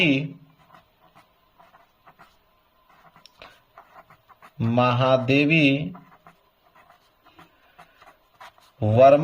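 A pen scratches on paper in short, faint, close strokes with small pauses between them. The quiet scribbling fills the gaps between bursts of a man's speech.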